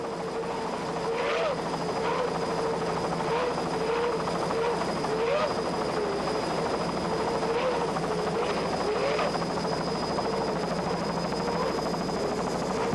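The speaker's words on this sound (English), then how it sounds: "Just listen to those Johnson outboards." Johnson outboard engines on a 25-foot offshore racing powerboat at a 1995 race keep up a continuous, loud droning roar with a wavering pitch that rises and falls with the throttle for the whole stretch, and no voices come through.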